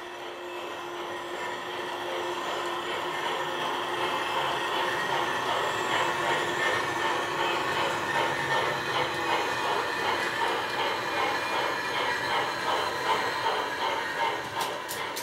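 A G-scale model train runs steadily on track under computer (DCC) control, a continuous rolling rumble with faint clickety-clack and occasional wheel squeal, fairly close, with no talk over it.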